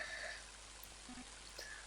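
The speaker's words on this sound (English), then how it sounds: "Mighty heavy rain, isn't it?" Steady, faint rain hiss in Mother 3, a soft continuous wash of falling water with scattered droplet ticks and no voices.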